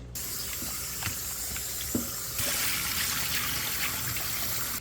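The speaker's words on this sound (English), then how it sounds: "so I'm just gonna wash them off with some lemon and some vinegar" Cow foot and tripe are washed with lemon and vinegar under running water, a steady trickle and splash from a tap close by, with a few soft knocks of handling and a fuller flow midway.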